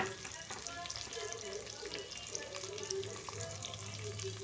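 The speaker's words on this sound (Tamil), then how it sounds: "இப்போ நம்ம வச்சுருந்த பெரிய வெங்காயத்தை போட்டுடலாம்." Chopped onions and green chillies frying in hot oil, a steady low sizzle with faint stirring clinks throughout, moderately quiet and close.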